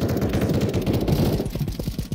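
Rapid automatic gunfire from a sniper fight in the MineFun.io video game, a dense continuous burst of loud shots that thins into separate, evenly spaced cracks near the end.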